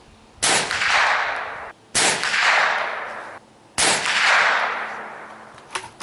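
Three loud .22 shots from a Mossberg 802 Plinkster rifle fired at a clay target on an outdoor range, each a sharp crack followed by a long rolling echo that fades before the next.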